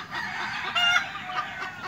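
An Asil Pakistan chicken, about four months old, clucks and crows in a close coop on a raised floor, loud repeated calls with a harsh, strained tone rising over faint background noise.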